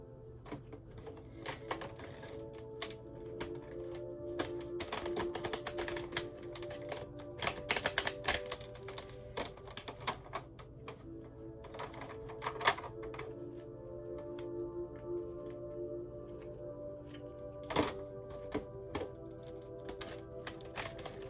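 Tarot cards shuffled and pulled from the deck at a reading table, a run of soft riffling clicks and flicks with a few sharper snaps, fairly close, with no talk.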